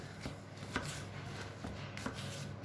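Someone finely chops onions with a knife in a home kitchen, a steady run of soft, even taps against a cutting board, close and quiet with nothing else over it.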